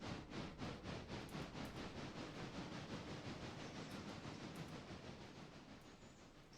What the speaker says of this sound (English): those diesels are coming. They're right up the track.